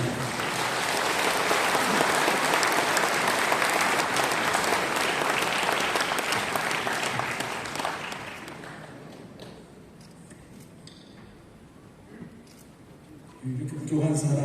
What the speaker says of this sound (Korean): 목사님 나오실 때 크게 박수로 환영해 주시면 감사하겠습니다